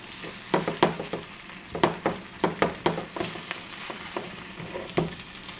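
Egg frying in a pan with mushroom, for an egg sandwich: a close, irregular crackle of sizzling pops and spatters repeating in bursts, no voices.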